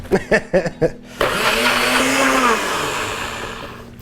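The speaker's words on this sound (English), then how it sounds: "The way it froths up in the blender looks super nice over the white grapes." A blender frothing a balsamic vinegar and maple syrup drink, starting with a few short pulsed bursts and then running loud and steady, its whine gradually dropping in pitch as the mixture thickens.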